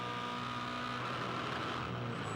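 A V8 Supercar engine screams on the rev limiter at 7,500 rpm in top gear during qualifying at Darwin, a steady, loud, sustained drone with no talk over it.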